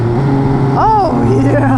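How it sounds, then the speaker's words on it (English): A three-cylinder motorcycle downshifts with a quick shifter, its engine note dropping and then sweeping up in one sharp blip over a steady riding drone, with a rider's voice audible. "that quick shifter is mighty crispy. Hit the downshift"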